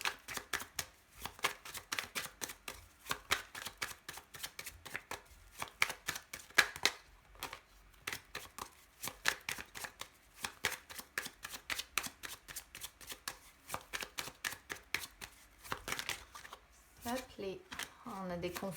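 Tarot cards riffled and cut over and over, a rapid close train of crisp flicks and slaps in quick rhythmic bursts, with a voice talking softly underneath at times.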